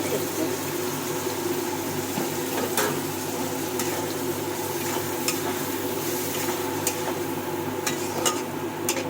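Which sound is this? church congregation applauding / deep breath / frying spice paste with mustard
frying spice paste with mustard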